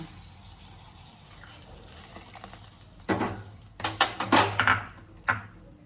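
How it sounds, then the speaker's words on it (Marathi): Hot water poured into a cooking pot of boiled, rinsed moong dal, heard as a few close, splashing gushes of liquid in separate bursts toward the end after a quieter start. "आता आपण गरम पाणी करून घेतलेलं होतं थोडंसं टाकायचं"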